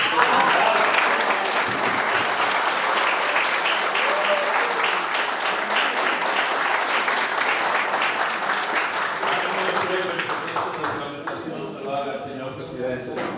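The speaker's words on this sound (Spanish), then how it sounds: "Yo creo que nosotros tenemos que darle un aplauso a eso." An audience at a conference in New York breaks into sustained applause, loud and even for most of its length, with a voice speaking over the clapping as it starts to fade.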